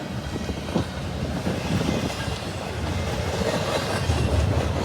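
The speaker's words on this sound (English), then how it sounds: "But awesome train all the way." A CSX SD70M locomotive and its train roll past on the rails in Muncie, Indiana, a steady loud rumble with rhythmic wheel clatter that builds slightly toward the end, no voices.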